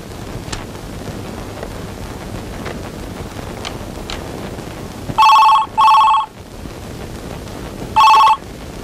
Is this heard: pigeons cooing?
no